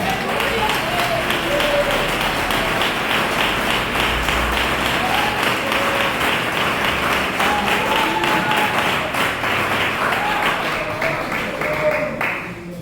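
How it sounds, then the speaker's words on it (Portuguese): A church congregation gives a sustained, loud round of applause during a worship service, dense clapping that holds steady for over twelve seconds with some voices and cheering mixed in underneath. "dar a melhor salva de palmas para Jesus, porque Ele merece"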